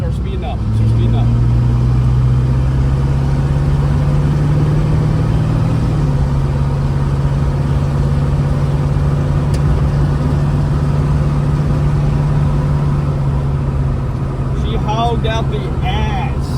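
A junk 1976 Chevrolet Nova with a three-speed transmission and weak brakes drones loudly up close as it pulls, its engine note rising early, then holding a steady, heavy hum for the rest of the run.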